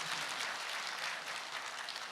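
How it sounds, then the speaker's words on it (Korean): Soft, distant applause from an audience at the opening ceremony of a culture center, a steady hiss of many hands clapping that holds evenly throughout. "우리 이사장님의 진심 어린 눈시울 다시 한번 큰 박수 부탁드리겠습니다"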